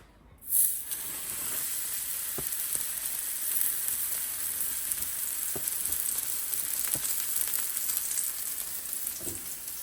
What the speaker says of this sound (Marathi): आता तेलामध्ये सोडते